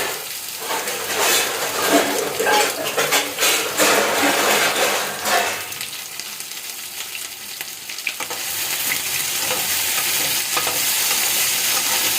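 Food frying and sizzling in a pan with stirring and scraping, a steady loud hiss close by that fades briefly mid-way before returning.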